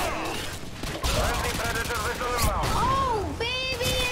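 Rapid bursts of gunfire from Modern Warfare 2 multiplayer run continuously under excited voices chattering over the action.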